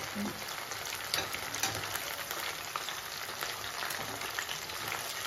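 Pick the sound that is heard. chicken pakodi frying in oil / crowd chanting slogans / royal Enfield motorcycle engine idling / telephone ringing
chicken pakodi frying in oil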